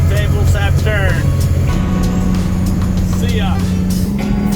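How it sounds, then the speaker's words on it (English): A Western Star logging truck drives with a low, steady engine drone and a gear-like shift partway through, close and loud, while people talk over it. "This truck really rides nice"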